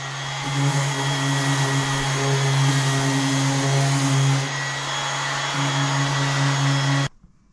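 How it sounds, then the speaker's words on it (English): A power sander hums over a resin-repaired car panel with a loud, steady motor drone. The pitch dips partway through, and the drone runs for about seven seconds before cutting off abruptly. "going to go ahead with the sander"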